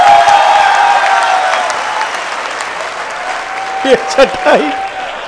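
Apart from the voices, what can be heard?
audience clapping at a poetry recital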